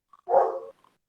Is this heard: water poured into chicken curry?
no